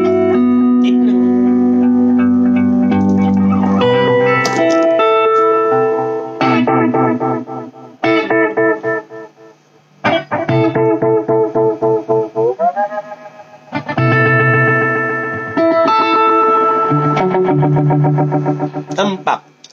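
An electric guitar runs through a 1980 Maxon OD808 overdrive with RC4558 chips and a delay, playing loud, sustained distorted notes and chords in phrases with echoing repeats and brief gaps.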